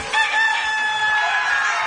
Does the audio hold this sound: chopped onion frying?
no